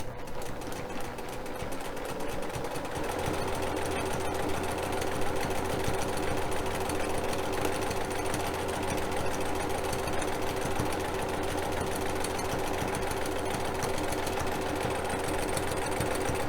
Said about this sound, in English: We're going to sew a 1/4 inch seam on this side of the line